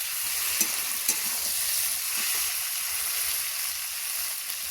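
Pumpkin stalks stir-fried in a pan with dried fish, a continuous close sizzle broken by a couple of sharp scraping stirs early on.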